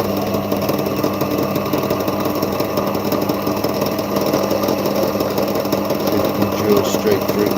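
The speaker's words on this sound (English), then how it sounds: "What not to do with a drill press." A drill press runs with a steady motor whine and hum, a constant buzzing drone that carries on throughout, while people talk over it.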